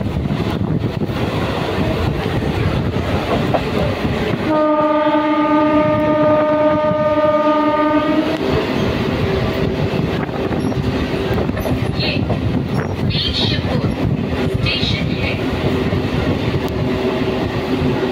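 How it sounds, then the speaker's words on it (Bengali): Local passenger train on the Mecheda–Santragachi line between Bagnan and Uluberia running with a continuous loud rumble and rattle, heard from on board, with a sustained horn blast partway through. "আমাদের ট্রেন ছেড়ে দিল ফুলগাছিয়া।"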